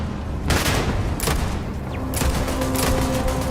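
Gun bursts in Starfield crack out in several loud, sharp volleys separated by brief pauses, with nobody talking over them.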